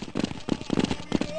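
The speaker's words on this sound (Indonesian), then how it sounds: "Siapa itu lagi ada tembak tuh?" Gunshots crackle in Counter-Strike: Condition Zero, several short irregular bursts of shots, moderately close, with a voice talking alongside.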